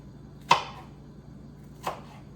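A knife dicing food into small chunks on a cutting board gives two crisp, close chops about a second and a half apart, with quiet in between and no talking.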